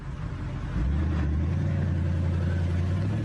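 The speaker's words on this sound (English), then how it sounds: "The sound of the car needs to be recorded, not just so engineers can decide if it purrs like a sports car should." A BMW 645Ci engine idling steadily under sound testing, then dropping into a deeper, louder drone partway through. A low continuous hum sits close to the microphone with no talk.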